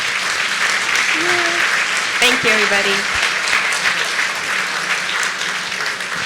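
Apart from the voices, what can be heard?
audience applause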